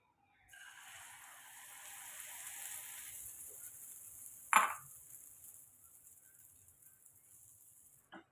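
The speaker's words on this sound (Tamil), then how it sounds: "இப்போ நம்ம இந்த முட்டையை நம்ம எல்லாம் அடித்து வச்சோம் பார்த்திங்கன்னா இப்போ அதையும் நம்ம சேர்த்துக்கலாம்" Beaten eggs hit a hot oiled pan with a loud hiss that settles into steady, fairly close sizzling, broken by a brief clatter partway through before fading out.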